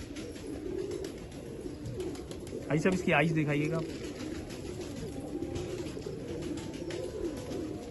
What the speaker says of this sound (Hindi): ये हाजी साहब के वो कबूतर हैं